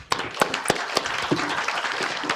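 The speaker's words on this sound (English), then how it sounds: "Could we give her a round of applause, please?" Conference audience at an education technology summit applauding a speaker's introduction: crowd clapping with several loud, close individual claps punctuating a steady background of hands, with faint voices beneath.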